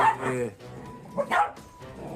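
A dog barks a few times in the background, its yaps rising above someone talking close by in Tagalog.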